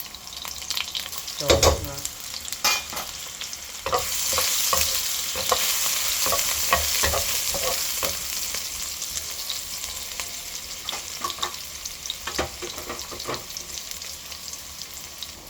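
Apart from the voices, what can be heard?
onion and garlic frying in a pan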